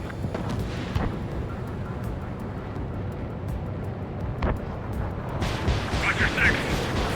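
Missiles and gunfire in a flight combat video game, a continuous low rumbling roar with scattered thuds and blasts, overlaid by radio-style voices speaking.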